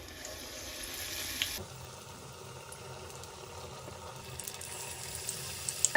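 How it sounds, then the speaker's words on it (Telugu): Stuffed boorelu dumplings deep frying in hot oil, a steady low sizzle and bubbling that runs through the whole stretch with small pops near the end, with no voices. "స్లో టు మీడియం అడ్జస్ట్ చేసుకుంటే గోల్డెన్ కలర్ వచ్చేంత వరకు తిప్పుకుంటూ ఫ్రై చేసుకోవాలి"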